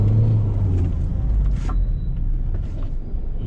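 A red Suzuki 4x4 engine rumbles low and heavy as the vehicle accelerates, a steady droning roar heard from inside the car.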